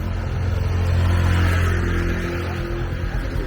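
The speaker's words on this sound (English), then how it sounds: "careful, there's quite a bit of traffic this morning" Road traffic rumbles close by on a busy morning, a car engine droning and rising steadily with no gaps, loud and alone without talk.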